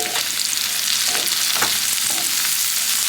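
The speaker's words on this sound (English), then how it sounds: "but I have found that frying it in butter, for me, is something that I prefer." Asparagus frying in butter in a pan, a dense, continuous close sizzle and crackle that stays even throughout, with no voices.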